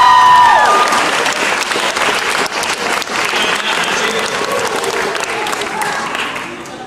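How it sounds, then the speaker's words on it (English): Loud, sustained audience applause at a 2009 physio ball and awards show, dense clapping that gradually tapers off, with a voice briefly at the start. "she deserves a round of applause too"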